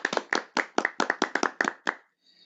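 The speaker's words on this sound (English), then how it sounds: "Clap it up, clap it up." Hands clapping about ten times in a quick, steady rhythm, close and loud, on an outdoor balcony, ending abruptly with faint wind after.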